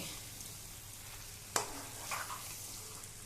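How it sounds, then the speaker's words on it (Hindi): Fried potatoes are tipped into a soyabean curry in a pan and stirred, giving a soft sizzle with one sharp clack of a spoon and a brief, wet stirring rustle. "अब हम इसी टाइम पे ये आलू जो फ्राई करके रखा था उसे डाल देंगे।"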